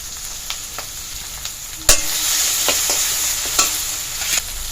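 Chili paste and cumin paste frying in a pan, a steady sizzle punctuated by scraping stirs and one sharper clatter, close and alone with no talk.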